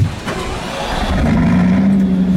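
The 8.0-liter W16 engine of a Bugatti Centodieci revs up from a rumbling idle into a rising, loud, sustained growl, heard close with no voices.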